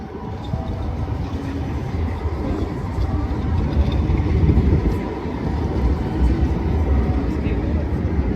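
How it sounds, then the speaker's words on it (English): Steady broadband rumble of trains and crowd bustle at Oslo central train station, a dense continuous wash with faint clanks and murmurs, swelling slightly in the middle, no clear speech. "Central train station."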